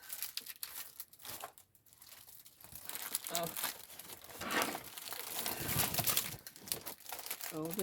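Crinkling rustles of a tote bag being opened, a steady stream of close, dry crackles and crumpling bursts of varying loudness, with some speech mixed in.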